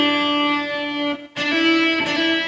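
Electric guitar playing a hammer-on and pull-off lick, plucked without a pick: sustained, slightly distorted notes ringing close and clear, with a brief gap and a fresh attack near the end, no talking.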